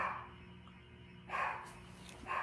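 A dog barks indoors during a head-to-toe health assessment, giving a few loud, broad barks at the start, in the middle and at the end, with quiet room tone between them.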